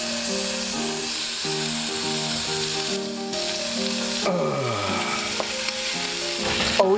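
Bacon frying in a pan while breakfast and French toast are cooked, a steady crackling sizzle with scraping stirs, under a layer of tonal music that continues throughout.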